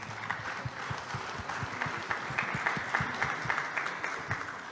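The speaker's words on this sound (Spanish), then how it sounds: "Quiero que le brindemos un caluroso aplauso" Warm audience applause at a Catholic assembly, steady many-handed clapping with some distinct individual claps close by, sustained throughout.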